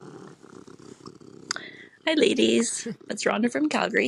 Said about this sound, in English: I'm sorry my cat's purring away beside me here.